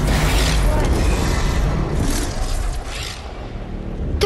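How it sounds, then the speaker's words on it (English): A deep, rumbling boom rolls through a sky explosion in Fortnite, a loud sustained roar with mechanical creaking that slowly fades, and a voice murmurs faintly beneath it. "Something's exploding."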